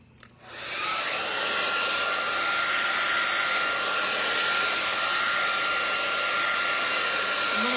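A hair dryer switches on and blows steadily at close range, drying paint on a stenciled canvas with a constant loud whooshing hum.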